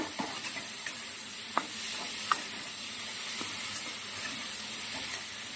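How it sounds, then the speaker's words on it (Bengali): Eggplant and potato stir-fried in a pan after fish, a soft continuous sizzle broken by a few sharp scraping clicks of the spatula, moderately close and without talk. "এবার দেব বেগুন আর আলু হালকা করে একটু নেড়ে নেব"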